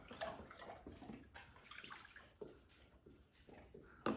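Lukewarm tap water runs and splashes for a bread recipe, a faint, uneven trickle with small sloshes and drips, fairly quiet throughout, ending in a louder splash.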